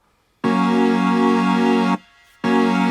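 A bright sustained synth chord through a BLEASS Shimmer Reverb, with a shimmering, airy reverb tail, cut off briefly before the chord returns.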